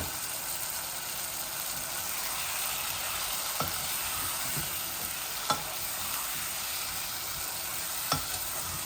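Gram flour (besan) being sautéed and stirred in a pan for fish curry with potato and tomato: a steady soft sizzle throughout, broken by a few sharp scrapes of the spoon against the pan.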